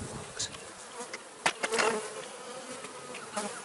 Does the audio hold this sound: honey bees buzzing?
yes